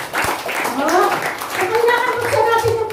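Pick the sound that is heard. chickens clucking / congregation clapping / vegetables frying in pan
congregation clapping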